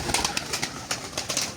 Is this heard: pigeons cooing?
yes